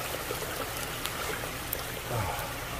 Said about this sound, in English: It spreads the water out evenly and goes down through this whole thing full of bio balls.